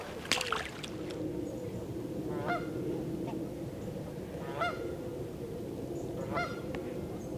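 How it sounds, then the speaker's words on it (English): Canada geese by an autumn lake honk in scattered bursts, some near and some farther off, over a steady low rumble of water and wind, with no talk. "Plenty of Canadian geese down here today."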